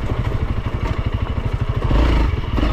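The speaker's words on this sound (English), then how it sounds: "I thought maybe since it was a 300 counterbalanced engine, it would have a little more low-end grunt" A 2022 Honda CRF300L with a counterbalanced 300 cc single-cylinder engine chugs loud and close on a single-track trail, firing in a rapid steady beat that swells briefly as the throttle opens.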